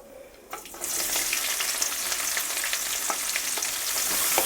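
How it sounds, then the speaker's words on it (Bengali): Onions hit hot oil with reddened whole spices for Bengali aloo dum, and a loud, steady crackling sizzle starts after a brief quiet moment and continues without a break. "ফোড়নটা বেশ লাল মতো ভাজা হয়ে গেলে পেঁয়াজটা দিয়ে দেবেন।"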